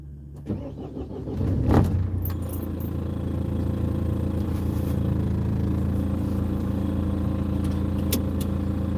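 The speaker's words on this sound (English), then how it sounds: "All right, let's start the car up again." A BMW diesel engine cold-starts after a month standing unused, with a brief cranking burst near the start, then a steady, loud idle with a low rumble that holds throughout. Faint key jingles come before the start.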